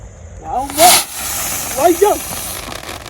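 A Drone Shot firework launches with a short, sharp burst of hissing. People talk before and after it.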